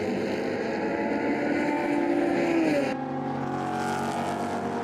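A historic race car's engine drones loudly at the Hungaroring in Budapest, its pitch rising then dropping as it passes, followed by a steadier, lower hum.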